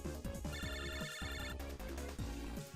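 A synthesized phone ringtone from MegaMan Battle Network 5 chirps in a fast, repeating electronic melody, loud and continuous for the whole stretch, with no voices over it.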